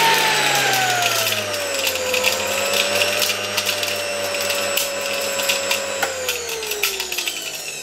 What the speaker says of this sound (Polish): Włączę zasilanie i zaraz włączymy odkurzacz.